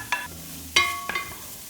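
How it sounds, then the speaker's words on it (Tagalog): Garlic and onion dropped into a hot dry pan with no oil, a few short stirring scrapes and light crackles in quick succession, close and fairly quiet. "Now it's time to put the garlic and the onion."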